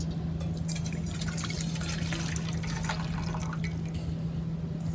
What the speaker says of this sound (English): And I'm gonna discard the water.